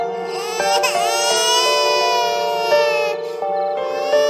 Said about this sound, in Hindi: मुझे जंगल में से एक बच्चे की रोने की आवाज़ सुनाई दी।